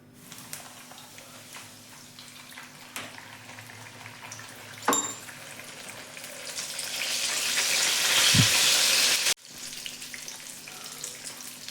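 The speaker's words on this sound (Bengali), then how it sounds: "তেলটা গরম হয়ে গেছে এবারে কচুরিটা ছাড়ছি তেলের মধ্যে" Cabbage-stuffed kachori dropped into hot oil: quiet kitchen noises give way to a rising, bubbling sizzle that swells to a steady loud fry, then cuts off abruptly and returns more faintly.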